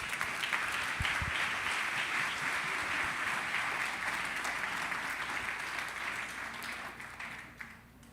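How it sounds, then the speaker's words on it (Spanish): Sustained applause from a church congregation during a Sunday service, a dense steady wash of many hands clapping that carries on for several seconds before thinning out toward the end. "denle un aplauso a nuestro rey, por favor"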